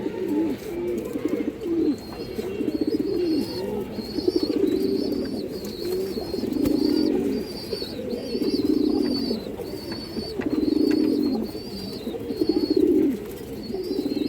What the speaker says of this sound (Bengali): এই দেখেন নড়ের ডাকটা দেখেন